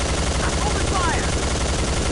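Dense rapid gunfire bursts loud and continuous in the video game Soldier of Fortune II during an assault on a rebel encampment, a constant rattling fusillade filling the whole moment.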